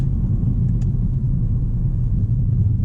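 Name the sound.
2017 Acura ILX engine in manual sport mode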